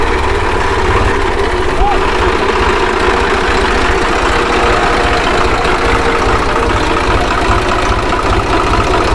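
A tractor engine idles steadily on a farm with a low, continuous chugging rumble throughout, loud and close.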